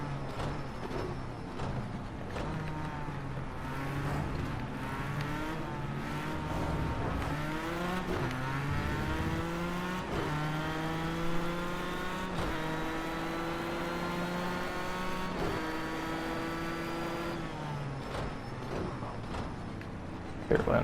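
A GT3 race car in a racing video game revs and upshifts repeatedly, its engine pitch climbing in steady stepped sweeps and dropping at each gear change, loud and continuous, with a voice talking over it.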